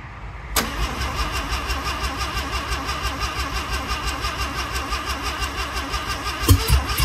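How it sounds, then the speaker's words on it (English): A freshly rebuilt car engine fires up for the first time: a sharp catch after a brief crank, then a steady mid-pitched idle that runs on with a slight rev bump near the end, close and loud, no talking. "First startup of the new engine."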